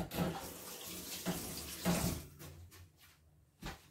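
A glass of water poured into a cooking pot of mrouzia gives a close, gurgling splash and trickle, strongest early and tapering off, ending with a brief thud.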